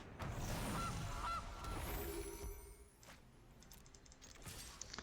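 A goose honk sound effect from a Magic: The Gathering digital card game sounds twice in quick succession near the start, loud and clear, then gives way to softer game interface clicks and ambient tones.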